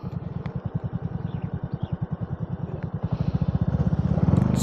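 Motorcycle riding on a rough road between Capas and Botolan, a rapid throbbing engine pulse close by, growing louder and rougher toward the end.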